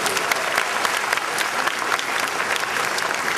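Sustained, dense applause from a large audience at a convocation ceremony at BIT Patna, loud and even throughout with many overlapping claps.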